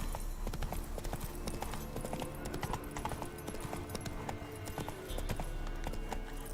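Hooves of the horse Roach clip-clop in The Witcher 3, a dense, steady run of hoof hits over game ambience, near and fairly loud.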